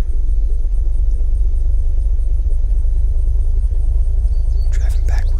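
A car in the Unturned video game drives with a steady, loud low rumble throughout, with a couple of brief sharp knocks near the end.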